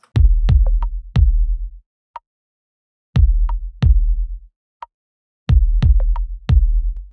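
Punchy layered kick drum samples hit with a deep boom and a sharp click on top, played in short repeating patterns, with a faint light tick between groups.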